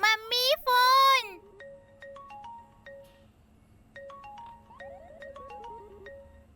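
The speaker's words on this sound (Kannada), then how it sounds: "Mummy phone." A mobile phone rings with a bright, repeating electronic melody of short tonal notes, heard after a brief burst of a voice, the tune pausing and then resuming.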